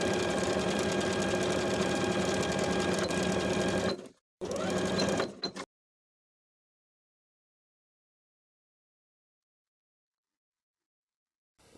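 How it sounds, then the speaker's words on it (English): A sewing machine edge-stitches around the inner bottom edge of an elastic-waist shorts waistband. It runs loud and steady at close range for about four seconds, pauses briefly, makes one short burst, then stops and leaves silence. "going to edge stitch all the way around that inner bottom edge"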